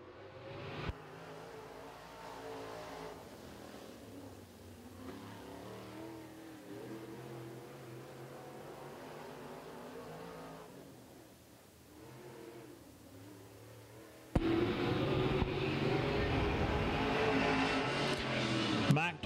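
Sportsman late model race car lapping a speedway, an engine note rising and falling as it circles, faint and distant at first under a public address announcer, then a sudden loud, close roar for the final seconds.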